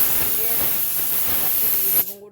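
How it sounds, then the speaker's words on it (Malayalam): A pressure cooker hisses loudly and steadily with jackfruit seeds cooking inside, a close continuous steam rush that cuts off abruptly near the end. "ചക്കക്കുരു കുക്കറിൽ അടിയുന്നുണ്ട് ഒരു മൂന്നാല് വിസിൽ വന്നോട്ടെ"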